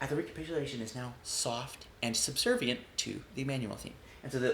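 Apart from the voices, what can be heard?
No distinct noise like a dog, phone or traffic.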